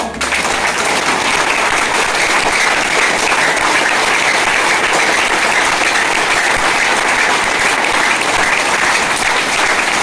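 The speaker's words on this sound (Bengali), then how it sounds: "আবার একবার জোরে হাততালি হয়ে যাক" Loud, sustained applause from an audience at a business meeting, dense clapping that continues evenly for the whole stretch without pause.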